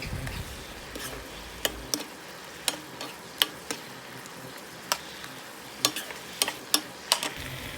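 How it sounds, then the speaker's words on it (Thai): Carrot, kale and enoki mushrooms stir-fried in a pan for glass noodles, with a soft sizzle under sharp, irregular scrapes and taps of a utensil against the pan. "ใส่แครอทลงไป คะน้า ตามด้วยเห็ดเข็มทองค่ะ ผัดให้สุกไปเลย"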